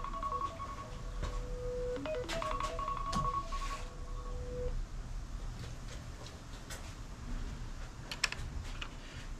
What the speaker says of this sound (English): Why is my phone beeping?